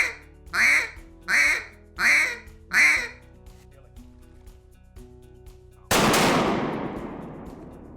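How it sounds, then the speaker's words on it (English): A duck call sounds four evenly spaced quacks, each ending in a slight whine, close and clear; a sudden loud burst then breaks in and fades slowly. "we're going to put the little whine on there by raising the tongue"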